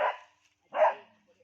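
A dog barks twice outdoors, two short sharp barks about three quarters of a second apart, close and clear with silence between.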